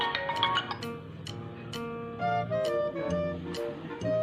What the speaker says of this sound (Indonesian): Oke guys, udah di telepon nih.